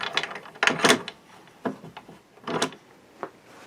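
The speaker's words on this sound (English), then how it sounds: "And we can just start coming back with our other clamps, and we'll get everything nicely tightened up then." Bar clamps are ratcheted and slid into place on a freshly glued bass body blank, giving a few separate bursts of close metallic clicking and scraping with short pauses between them.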